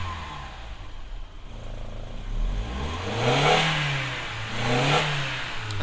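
An Audi TT engine revs up as the throttle is pressed in a garage, idling low and then rising in two or three swelling, wavering revs that climb and fall back, close and fairly loud.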